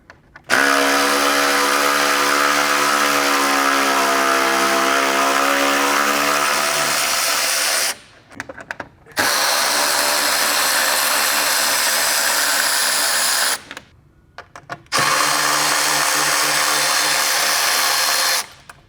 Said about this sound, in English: Now we'll remove all of these T30s for this tie bar.